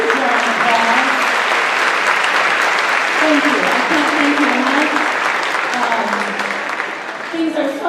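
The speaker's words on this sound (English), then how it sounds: "let's give them a huge round of applause" Audience applause fills the hall at a choir concert, steady and sustained throughout, while a voice speaks over the clapping and it thins slightly near the end.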